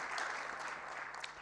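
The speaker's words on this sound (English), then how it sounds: "Just give her another round of applause" A short burst of audience clapping at a budget review dinner session, fairly soft and distant, with a continuous patter of many hands.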